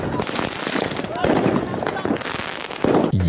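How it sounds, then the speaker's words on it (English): Dutch New Year street fireworks crackle and pop in rapid, dense bursts, with loud sharp reports and a few whistling streaks, while people talk and exclaim over the din. "Yeah, that wasn't my fireworks."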